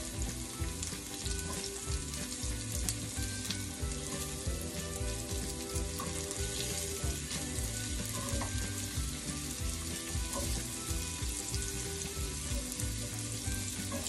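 Carrots fry in a pan, sizzling loudly and steadily throughout with occasional stirring scrapes, the dense crackle close and continuous with no voices.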